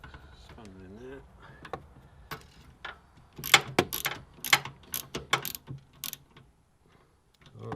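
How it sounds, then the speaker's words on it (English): A spanner tightens a nut on a swivel seat base in a Nissan NV200 campervan conversion, giving a run of sharp metallic clicks and ratcheting taps in quick irregular bursts, with a brief voice early on. "Just to get the spanner in there."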